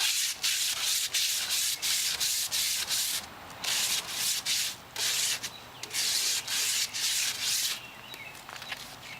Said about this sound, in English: I don't have anything to clean the grill with, but I have foil.